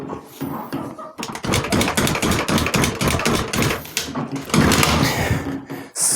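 An old moped that had sat unused for about a year and a half is kicked over repeatedly without starting: a rapid rhythmic chugging turnover that sputters on and off, close and loud.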